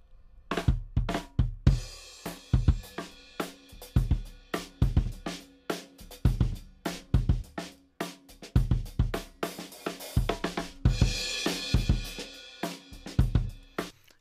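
A full drum kit with room microphones blended in plays a steady groove with punchy kicks, snappy hits and bright cymbals ringing out, with long, elongated sustaining decay throughout; no talking.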